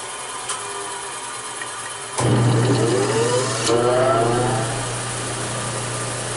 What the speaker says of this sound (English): An old General Electric motor.